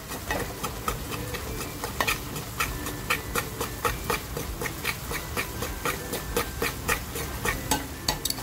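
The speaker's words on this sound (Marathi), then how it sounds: "तर बघा आपल्याला मसाला सुद्धा असा छान खमंग परतवून घ्यायचा आहे।" Homemade masala paste browning in a pan for a Kolhapuri mutton curry, a low sizzle under a rapid run of spatula taps and scrapes against the pan, close and steady throughout.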